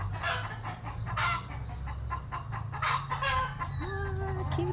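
Young Maya birds in a nest in a calamansi tree chirp and peep in short repeated calls over a low, steady background hum, with nearby clucking fowl mixed in.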